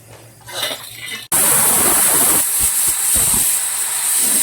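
A pressure cooker of white pumpkin lets out its whistle, a sudden loud, sustained hiss of escaping steam bursting in after a quieter start and roaring steadily to the end.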